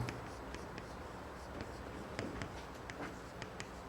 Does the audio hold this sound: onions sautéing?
no